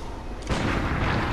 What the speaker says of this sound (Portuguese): Dá tiro também, foca a mira nele.